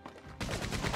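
Gunfire in Red Dead Redemption 2 Online, a Wild West shooter game; a brief burst of loud, close shots erupts after a quieter moment and continues in rapid succession.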